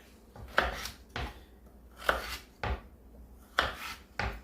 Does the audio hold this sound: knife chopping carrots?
yes